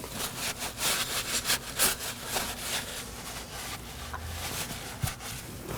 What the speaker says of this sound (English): And wipe it down with a clean rag.